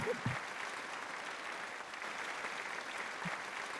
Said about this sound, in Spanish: quisiera que nos diéramos un aplauso